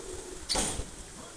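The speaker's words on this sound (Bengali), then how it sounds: "এই দেখেন কত ধরনের পাখি আছে" A single short bird call, pigeon- or dove-like cooing, rings out once near the middle against a faint background hum at a small zoo, brief and moderately near, with no talking.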